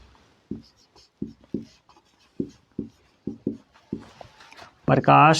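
Writing on a board during a Class 10 science lesson: a run of short, evenly spaced strokes and taps, close and fairly clear, with a voice beginning at the very end.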